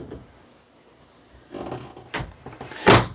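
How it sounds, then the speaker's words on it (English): Sliding pocket door in a 2022 No Boundaries 20.4 travel trailer bathroom, a soft rolling slide followed by a couple of light knocks and a sharper bump as it closes, close by and alone. "sliding pocket door,"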